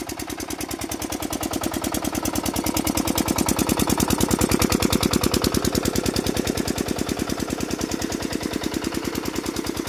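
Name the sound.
machine thumping near rice paddy field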